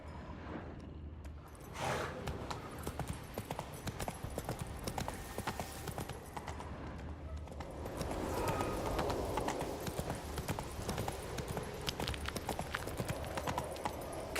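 Horse hooves clip-clop steadily on the ground while riding in The Witcher 3, a continuous rhythmic trot mixed with game ambience, moderately close and with no speech.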